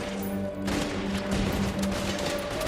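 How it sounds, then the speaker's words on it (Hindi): Rapid gunfire bursts from the 2010 film 22 Bullets, in which five masked men open fire, crackle in dense overlapping volleys over a tonal film score, loud and sustained throughout. "5 नकाबपोश लोगों ने उस पर गोलियां चलाना शुरू कर दिया।"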